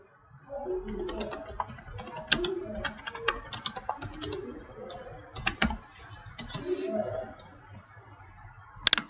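Keys clatter steadily on a computer keyboard as a question is typed into a WordPress Q&A plugin, with bursts of quick clicks and short pauses, close and fairly quiet, with no voice.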